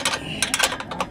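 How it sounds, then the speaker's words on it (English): A wrench tightens a bolt on a basketball rim, giving a short burst of close metallic ratcheting clicks in quick uneven succession, with no talking over it. "Tighten up this bolt."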